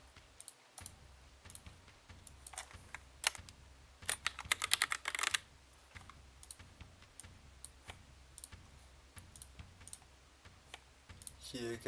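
Rapid clicky typing on a computer keyboard at a gaming tournament, bursts of quick keystrokes with a dense flurry near the middle and a faint voice underneath.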